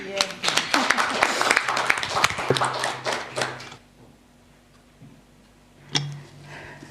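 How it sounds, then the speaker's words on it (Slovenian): An audience at a panel discussion marking International Women's Day in the Slovenian National Council breaks into lively applause, close and steady for several seconds before dying away, with a lone clap later and a voice speaking. "Vredno enega aplavza, ne?"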